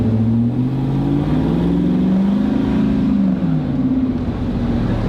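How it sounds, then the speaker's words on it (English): A car engine revs steadily and loudly up close, its deep drone rising and falling in pitch across several seconds, with no talking. "Engine seems to have decent power"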